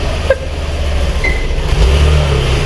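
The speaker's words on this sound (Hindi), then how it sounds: "हमारे पति परमेश्वर जी स्कूटी पर अपने नंदी पर विराजमान होकर जा रहे हैं" A scooter pulls away nearby on a rainy day, its small engine humming steadily and rising slightly in level toward the end, with a faint chirp early on and no talking.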